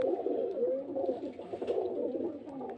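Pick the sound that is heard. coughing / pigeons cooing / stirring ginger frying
pigeons cooing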